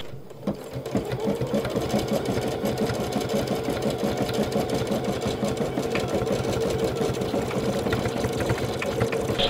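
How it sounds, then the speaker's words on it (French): A Bernina Chicago 7 embroidery machine stitching, a continuous rapid mechanical needle rhythm with a motor hum, running steadily and close throughout. "Donc au départ, ça pique doucement et puis hop,"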